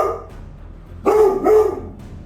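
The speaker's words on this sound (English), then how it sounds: "Baying." A Rhodesian Ridgeback bays in two loud, drawn-out calls close by, each rising sharply and holding a tonal howl before fading, with a quieter low rumble underneath between them.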